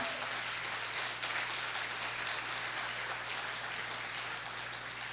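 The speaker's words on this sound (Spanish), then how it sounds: "Dele un aplauso al Señor." Church congregation applauding during a family service, a steady, even wash of clapping from many hands that holds through the whole stretch at moderate, distant level, with a low hum underneath.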